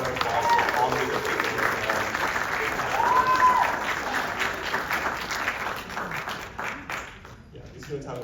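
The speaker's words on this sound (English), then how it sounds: "these things are a round of applause for all of" Audience applause at a school winter concert, a steady wash of many hands clapping for the full stretch and easing slightly toward the end, with a voice talking over it.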